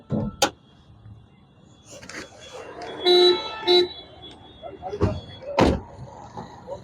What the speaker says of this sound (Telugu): హారన్ కూడా వర్కింగ్ లో ఉందండి